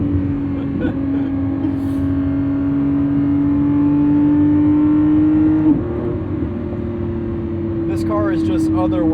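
A Lamborghini Revuelto's 1,001 hp hybrid V12 revs hard on a night drive, a loud sustained engine drone heard from inside the car, climbing steadily in pitch with a brief shift before building again.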